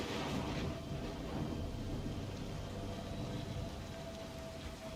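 Steady rain pours in Assassin's Creed Shadows, a dense even hiss of falling water with low rumbling underneath, constant and fairly quiet, with no voices.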